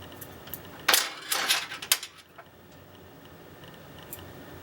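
Scissors trimming the materials on a crayfish fly for carp fishing, a quick cluster of sharp close snips and clicks bunched in the first couple of seconds, then quiet with one faint tick later.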